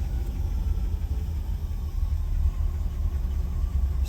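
A 1967 Lincoln V8 with a newly installed carburetor idles steadily on its own, a deep even rumble heard close up with no throttle changes and no talking.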